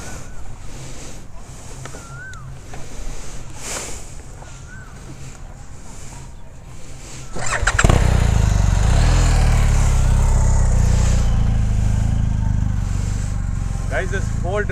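A BMW GS motorcycle's engine runs loud and close for the second half on an off-road training course, with a steady low drone and buffeting wind noise after a quieter start with faint voices.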